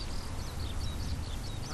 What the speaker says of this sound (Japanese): 田んぼで餌を探すカルガモ